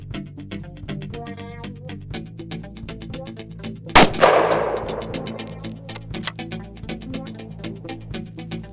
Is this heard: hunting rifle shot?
yes